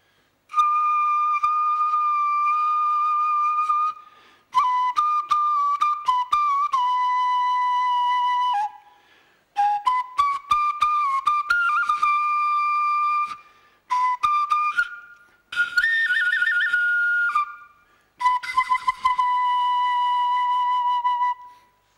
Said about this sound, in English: That is the sound of a bone flute.